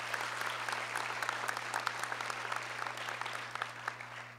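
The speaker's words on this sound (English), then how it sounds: "So let's give them a big round of applause." Audience applause at a Bravo 2015 event, a steady wash of many hands clapping at moderate distance, fairly even throughout with a faint low hum underneath.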